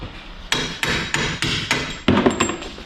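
A hammer strikes the yoke to drive it off the pinion of a Blazer's axle: six or seven loud, sharp metallic blows land close up at a steady, even pace.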